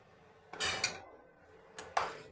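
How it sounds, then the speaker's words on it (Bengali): A ripe mango and hog plum chutney mixture is stirred in a pot, with two short bursts of spoon clattering against metal close by and near silence between them. "এই পর্যায়ে আমি পাকা আম আর আমরার ওই মিশ্রণটা মিশিয়ে দিচ্ছি"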